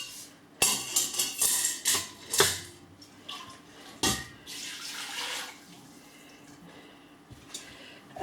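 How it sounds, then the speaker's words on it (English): Water splashes and pours into a big pot on the stove for hand dyeing, mixed with clanks of metal pots and utensils. The sounds are fairly faint and come in irregular bursts. "Adding a bit more water."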